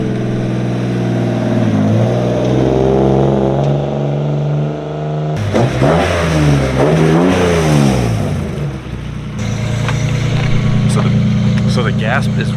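A car fitted with individual throttle bodies revs hard, its engine note sweeping up and down through several throttle blips, loud and close, with people talking over it.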